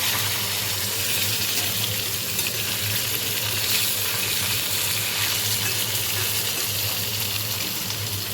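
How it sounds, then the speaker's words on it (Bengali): Potatoes being stirred and lightly fried in a pan while preparing a thin katla fish curry, giving a steady, close sizzle with continuous broadband hiss and occasional utensil scraping throughout, no talking. "এবার আমি আলুটা একটু নেড়ে নেবো, মানে হালকা করে ভেজে নেবো একটু।"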